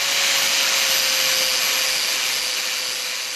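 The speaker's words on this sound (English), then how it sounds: "What I'm doing here is I'm beveling these edges where the weld is gonna be." Beveling the edges of scrap steel before welding in a shop, a steady, loud grinding whine with a constant pitched hum, continuous and close, fading slightly at the end.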